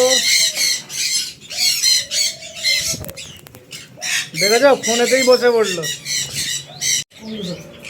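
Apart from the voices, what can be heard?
pet bird squawking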